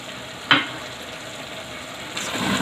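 Kachnar chicken curry with garam masala sizzles steadily in a pan as it is stirred, with one clear clack of a spoon against the pan and a soft rise in frying noise toward the end.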